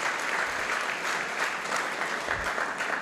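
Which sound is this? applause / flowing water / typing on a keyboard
applause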